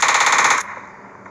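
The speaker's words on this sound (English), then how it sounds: "All of a sudden I hear gunfire." A rapid burst of automatic gunfire rattles loudly for about half a second, then cuts off, leaving a fading echo.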